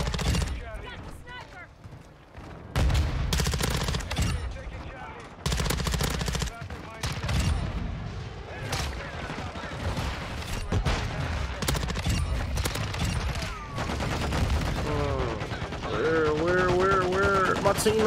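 Automatic weapon fire from the Bas-P submachine gun in Modern Warfare 2 multiplayer, dense repeated bursts and rattling volleys running loud throughout, mixed with game effects and a player's voice talking over the action.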